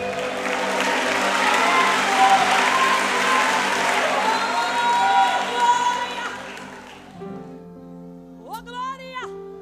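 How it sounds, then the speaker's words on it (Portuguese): A church congregation claps and cheers loudly over sustained organ or keyboard chords, the applause fading after several seconds to leave the music and a brief voice. "Você pode aplaudir ao nome do Senhor nessa tarde."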